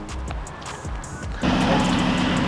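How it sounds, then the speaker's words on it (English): Alfa car being moved around outside a studio, a low engine rumble nearby that swells louder midway as it pulls off, with light knocks and background noise. "Toby's just moving the car around so we can easily clean it."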